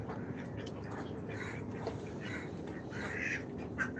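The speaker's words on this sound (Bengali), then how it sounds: "সকাল সকাল হাঁস জলে সাঁতার দিচ্ছে" Ducks swimming in water quack in short, scattered bursts over a quiet, low background hum, fairly faint and somewhat distant.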